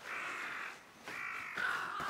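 A Kasugai crow in the Demon Slayer anime caws loudly and harshly, giving three drawn-out, closely spaced calls that fill the moment with no talk.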